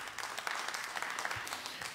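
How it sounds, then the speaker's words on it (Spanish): A church congregation claps during a Sunday morning bilingual sermon, a brief burst of quick, fairly quiet hand claps heard from a distance with some room echo. "dale un aplauso"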